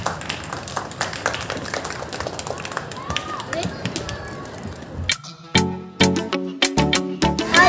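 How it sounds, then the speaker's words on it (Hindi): Lively crowd applause greets a chef at a live cooking show in a museum, with dense clapping under a speaker's amplified voice and cheers, then sharper, louder individual claps near the end. "आप लोगों की ज़ोरदार तालियों में हमारी बेहतरीन और शानदार शेफ"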